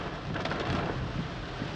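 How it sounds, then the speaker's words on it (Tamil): Heavy rain pounding on a car driving through forest in Nagarhole Tiger Reserve: a dense, roaring wash of drumming drops with rumbling low noise, loud and constant, with no talking. "நல்லா ஃபோர்ஸ் அடிக்குது பாருங்கள் மழை."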